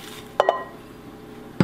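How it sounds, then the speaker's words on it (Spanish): Coconut, nuts and almonds for granola bars are stirred in a bowl, with a few close clinks and scrapes of a utensil against the dish separated by a quiet pause. "Simplemente lo voy a mezclar todo bien."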